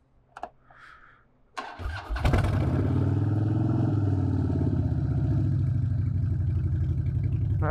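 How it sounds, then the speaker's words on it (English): A motorcycle or car engine starting with a couple of clicks and cranks, then catching and revving up high into a loud, sustained close roar that holds steady to the end, with no voices. "that was a high rev up"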